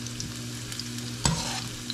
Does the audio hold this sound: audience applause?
no